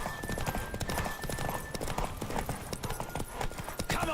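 Horse hooves pound in a rapid, continuous clip-clop gallop during a horse race in The Witcher 3 video game, loud and close with game ambience underneath.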